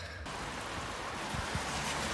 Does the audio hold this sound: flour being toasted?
no